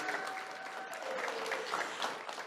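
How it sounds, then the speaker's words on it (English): A crowd applauding steadily, a dense wash of clapping hands that holds at an even level throughout with no voices standing out. "give yourselves a big round of applause again"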